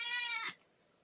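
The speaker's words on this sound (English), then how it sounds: "No, that's my cat." A cat gives one drawn-out, tonal meow at close range, clear and fairly loud, ending abruptly and followed by near silence.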